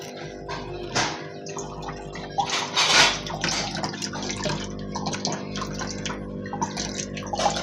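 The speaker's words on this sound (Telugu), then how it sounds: "మనకి వాటర్ అయితే పైకి వచ్చి లోపలికి అయితే పడుతుంటాయి అన్నమాట" Filtered water from an Oscar fish tank filter splashes and trickles back into the tank, a continuous close burble with irregular louder drips and splashes.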